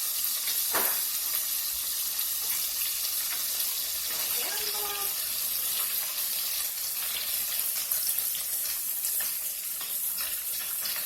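Squid calamari frying in hot oil gives off a steady, even sizzle and crackle that runs the whole time at moderate level, with a faint voice briefly in the background.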